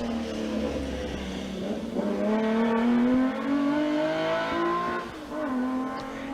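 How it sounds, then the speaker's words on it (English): A Holden 6-cylinder race car at a sprint meet accelerates hard, its engine note climbing steadily through the gears with rising harmonics, loud and close, easing briefly before pulling away again. "Isn't that just the most superb sounding Holden 6-cylinder engine?"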